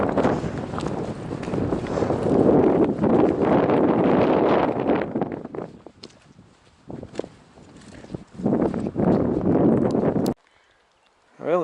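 Gusty wind buffets a mountain hiking trail near Deception Peak in Santa Fe National Forest, a loud rushing roar that drops away and returns in surges, then cuts off into near quiet as footsteps and rustling continue.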